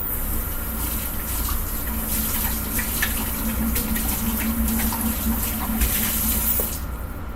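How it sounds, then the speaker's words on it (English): Half a cup of plain tap water runs into a measuring cup for an evening snack recipe, a steady, close, rushing stream that fills evenly and stops near the end, with no talk. "I'm going to add 1/2 cup of water"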